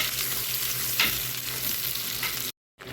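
Onion paste with ginger-garlic paste and salt fries in hot oil for a poa fish bhuna, a loud steady sizzle with stirring scrapes, close up, cut by a brief silent gap near the end.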